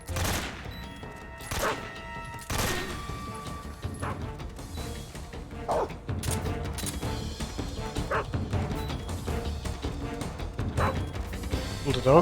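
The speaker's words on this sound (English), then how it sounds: "Will the dog piss off when the alert goes," A dog barks repeatedly in Metal Gear Solid 3, its sharp game-audio barks close and loud over busy background effects, with someone talking over parts of it.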